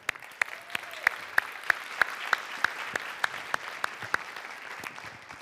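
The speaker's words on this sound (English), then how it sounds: "Everybody clap it up for him." A group claps briefly, with a few sharper hand claps standing out above the steady crowd applause.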